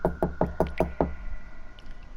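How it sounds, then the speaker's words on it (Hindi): Six quick, evenly spaced knocks on a room door, close and sharp, set in a horror story, followed by a quiet, tense room tone. "तभी अचानक कमरे के दरवाजे पर दस्तक हुई।"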